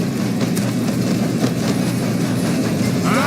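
A train runs steadily in the video game Red Dead Redemption 2, with a continuous rumble and rhythmic clickety-clack of wheels on rails heard up close, with no talking.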